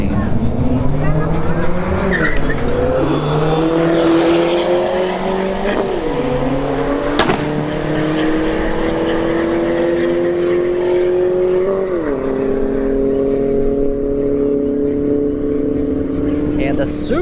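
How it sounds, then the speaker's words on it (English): A Mark IV Toyota Supra and a Dodge Neon SRT4 drag race at Bradenton Motorsports Park, engines screaming loud and close with rising revs broken by sharp drops at each gear shift. "The Mark IV Supra in the right lane and the Neon SRT4 in the left lane"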